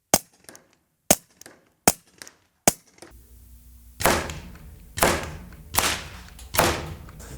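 Four crisp, dry cracks spaced about a second apart as .22 caliber bullets hit wood, then four fuller, booming impacts that echo briefly. Close and loud, no voices.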